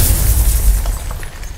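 A crystal shot and bursting in God of War: a deep, booming low rumble that swells and then fades within about a second and a half, with no voices.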